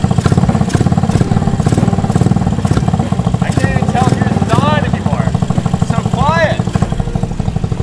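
A Ruckus GY6 and a Honda Metropolitan scooter idling and revving together, a loud close rhythmic single-cylinder putter with rising engine whines, while people talk over it.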